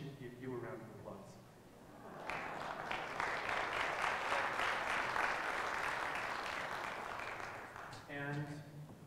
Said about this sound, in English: maybe we should give you a round of applause.